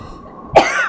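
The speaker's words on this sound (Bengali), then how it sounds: "কয়েকদিন হলো কাশিও সারে না।" A single sharp cough from an elderly man with a cold, close and loud, preceded by brief quiet.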